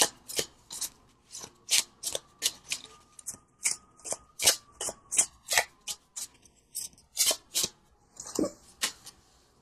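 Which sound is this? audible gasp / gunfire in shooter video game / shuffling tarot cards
shuffling tarot cards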